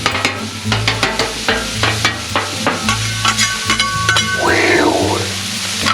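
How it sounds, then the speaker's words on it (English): Chorizo and onions fry on a Blackstone griddle outdoors in wind, a steady close sizzle broken by sharp metal spatula clanks and scrapes in an irregular rhythm, with no talking. "Now, that chorizo browning up gorgeous, and mixing the onions right in there."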